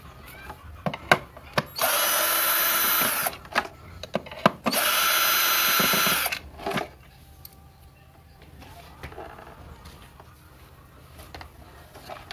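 A power drill removes bolts from a Turbo EHM9595 stand mixer in two loud, steady whirring bursts of about a second and a half each, with handling clicks and knocks before, between and after.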